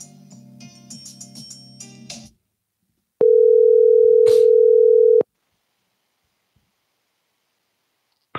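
A telephone ringback tone sounds while a number is being dialed: one long, steady, loud electronic tone lasting about two seconds, followed by silence, after some earlier soft sounds.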